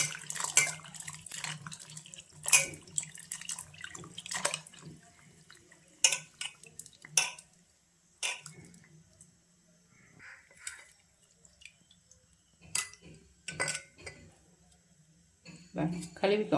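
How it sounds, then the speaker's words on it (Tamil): Tamarind washed by hand in water, with intermittent splashes and sloshing in a bowl, close and quiet, scattered through a stretch where a person talks. "புளியை நல்லா கழுவி எடுத்துக்கோங்க"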